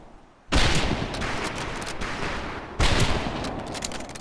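Rifle fire crackles at a World War II training range in a video game, two loud sustained bursts of dense, overlapping shots separated by a brief gap.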